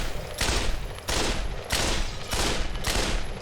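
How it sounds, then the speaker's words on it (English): Four loud, close bursts of rapid gunfire in the VR shooter game Pavlov VR, each volley lasting about half a second with short gaps between them. "I'll burst fire a few shots."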